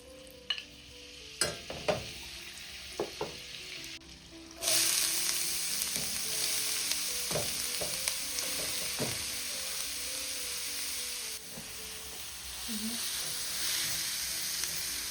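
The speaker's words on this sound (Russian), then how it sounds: "Обжариваем до золотистого цвета" Greens filling for Dagestani chudu frying in vegetable oil and butter, a steady hissing sizzle with scattered stirring knocks that grows louder partway through and then holds evenly.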